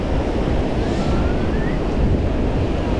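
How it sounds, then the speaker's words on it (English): Ocean waves surge onto a windy beach at Bradenton, Florida, with a continuous loud roar of surf mixed with gusty wind buffeting close by. "Super windy, super crazy. Probably a bad day to go in the water. Look at those waves, man."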